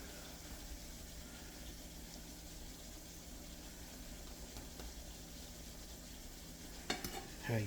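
Salmon patties frying in a pan give off a steady, soft sizzle throughout, close by, with a few brief clinks and scrapes near the end.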